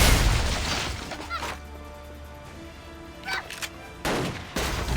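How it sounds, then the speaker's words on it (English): Rifle shots fired at a brazier in Blade and Soul: a loud opening blast, then a few sharp cracks and crashing impacts spaced over several seconds, with quieter in-game ambience between them. "Take a rifle from this box and shoot the brazier."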